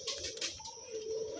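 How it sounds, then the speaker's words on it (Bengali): Pair of pigeons cooing faintly in a loft, soft low coos half-buried under a steady background hiss. "এই দেখুন এখানে দুটো পায়রা আছে।"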